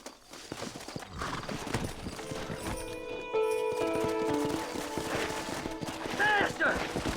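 Rapid hoof clip-clop of a horse with a whinny in Red Dead Redemption, set among busy game sound effects, gunfire-like bursts and a voice.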